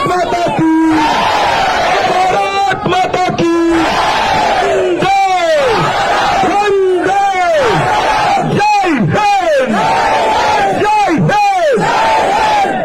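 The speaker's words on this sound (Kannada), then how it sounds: "ಒಂದ್ಸಲ ಕಂಠದಲ್ಲಿ ಭಾರತ್ ಮಾತೆಗೆ ಜೈಕಾರ ಕೊಡಿ" A large rally crowd roars rhythmic chants hailing Mother India, massed voices surging and falling in repeated shouted waves, loud and close, with whoops and yells scattered throughout.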